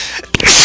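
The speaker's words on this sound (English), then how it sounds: "Worst time to sneeze." A single sharp, close sneeze follows a brief intake of breath, loud against the quiet of a Kirby's Return to Dream Land play session.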